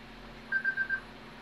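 A phone alarm goes off with four quick, evenly spaced high beeps, fairly faint, over a low steady hum during a computer game session.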